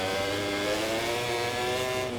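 Pecco Bagnaia's spec-B MotoGP bike in the MotoGP 24 racing game, its engine droning loud and continuous at high revs with no pauses.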